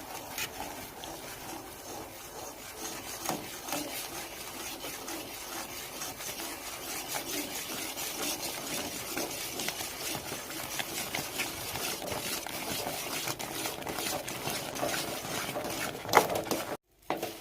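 Semolina (rava) is stirred a little at a time into chakli dough in a pot on the stove, making a steady close-up scraping and rubbing that runs on without pause and ends in a brief knock.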